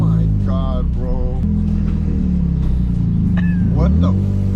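A Nissan 350Z's engine revs loudly up close with a rumbling exhaust throughout, and voices talk excitedly over the engine.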